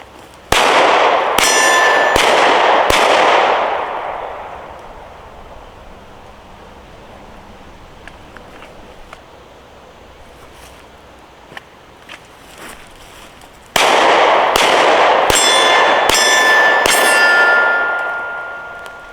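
A Glock 43X pistol fires two quick strings of shots at a shooting range, each sharp crack followed by a ringing clang of steel targets, long metallic decay trailing after each volley, with a quiet pause between.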